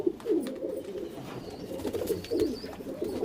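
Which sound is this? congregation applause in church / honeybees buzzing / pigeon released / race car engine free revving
pigeon released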